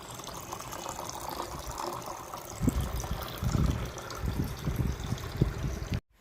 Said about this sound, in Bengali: আমার মা জল ঢালছে